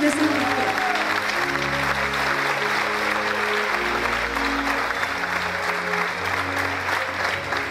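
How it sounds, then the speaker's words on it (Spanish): A church congregation applauds steadily and fairly loudly throughout, a dense, sustained wash of clapping over soft held musical tones. "Así, den un aplauso"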